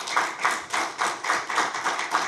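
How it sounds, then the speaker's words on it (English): A round of applause at a ministerial council meeting: many hands clapping together in a steady, rhythmic pattern at about four beats per second, close and fairly loud, with no voices over it. "we should give him a round of applause for that"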